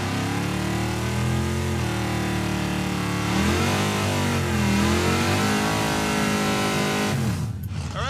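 A Roadkill Garage 'Crop Duster' drag race car revs hard and sustained during a burnout, the loud engine note dipping and climbing before cutting off near the end, with no talk.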